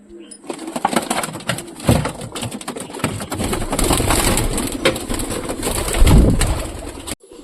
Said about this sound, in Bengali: তো কবুতরগুলো বাইর করে দিলাম